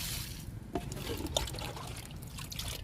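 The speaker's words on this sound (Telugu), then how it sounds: "జామ మొక్కకి వాటర్ ఇస్తున్నాను" Water trickles and pours steadily onto the soil of a guava plant, a soft continuous splashing close by with a few brief spatters.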